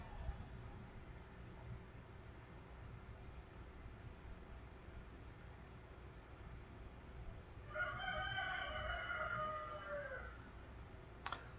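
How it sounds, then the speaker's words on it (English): A rooster crows once, fairly faint and distant, in the latter part, over a steady low background hum in a neighborhood in Trinidad and Tobago. "If you ever hear a rooster in the background,"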